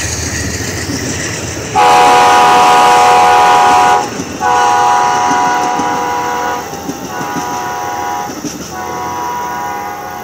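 Amtrak passenger train No. 126 passing through Effingham, Illinois, sounding a loud, close horn in long blasts with short breaks between them, over the rumble and clatter of the rail cars.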